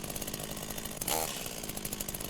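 Chainsaw from the visual novel Rebellions: Secret Game: a short, steady buzzing engine roar that surges louder for a moment partway through, with no voices.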